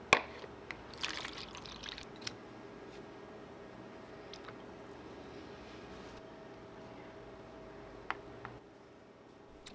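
Leather soaking in water, with quiet trickles, drips and small splashes from handling it, a few sharper splashes early on, otherwise faint and steady with no talk.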